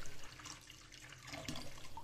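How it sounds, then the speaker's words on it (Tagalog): Coconut water from two young coconuts poured into a container while making a chilled drink, a soft steady splashing stream with a brief brighter splash near the end, no talking. "ibuhusan natin yung sabaw ng buko"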